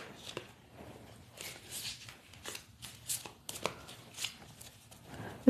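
Cards riffled and shuffled by hand at close range during a tarot-style reading, coming in soft repeated bursts of flutter and slap with quiet pauses between them and no talk.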